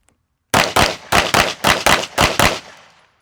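A pistol fires eight rapid, evenly spaced shots up close during a trigger drill, each a loud sharp crack, followed by a brief fading echo.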